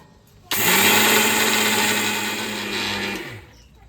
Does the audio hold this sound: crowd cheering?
no